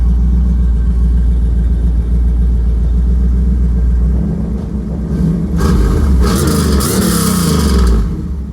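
A 1986 Camaro IROC-Z with a fuel-injected 383 stroker engine idles with a loud, deep rumble, then revs up in a few rising throttle blips before settling, heard close up.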